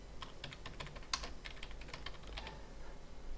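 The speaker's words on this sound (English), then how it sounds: "in the search box type in System Restore." Typing on a computer keyboard to enter a search in the Windows 7 Start menu: a quick string of light, close key clicks in an irregular rhythm over faint room hiss, with no one speaking.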